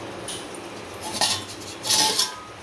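A metal lid is set on a pot of gooseberry rasam coming to a boil, producing a couple of short, bright metallic clinks and scrapes up close over a soft background hiss.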